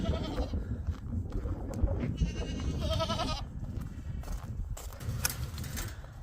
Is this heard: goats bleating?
yes